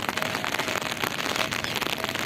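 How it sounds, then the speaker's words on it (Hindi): Heavy rain that has fallen for two days pours down as a dense, close, unbroken hiss of drops lasting a couple of seconds, with no talk. "पहले तो कितनी बारिश हो रही है, देखिए गाइस।"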